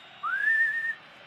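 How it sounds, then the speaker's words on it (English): A single long whistle rising then holding steady, sounding like football supporters in an FC 25 match whistling for full time, standing out clearly over a low crowd murmur. "City fans calling for the final whistle."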